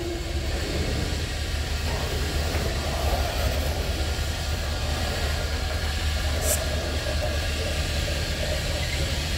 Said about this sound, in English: So let's see, NS 1817, an SD70 ACC and a Thoroughbred Dash 9 engine.